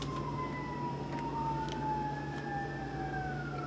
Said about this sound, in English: Do you hear them sirens?